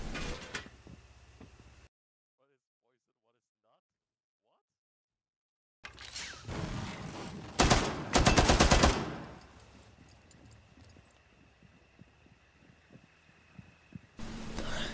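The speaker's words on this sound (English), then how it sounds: "This is a very advanced strategy in which you shoot at a wall." Bursts of automatic gunfire aimed at a wall in the shooter game Counter-Strike 2 rattle loudly among clanking in-game sounds, after a stretch of near silence.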